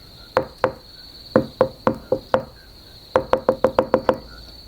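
Sharp knocks on a door for a Little Red Riding Hood story, three short bursts of two, five and eight quick raps, close and loud over a faint steady background tone.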